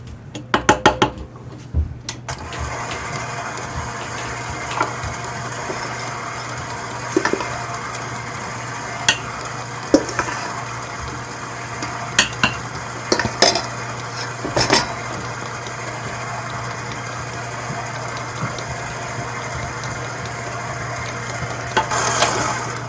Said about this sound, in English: scrape down so that all of this comes together into a nice smooth batter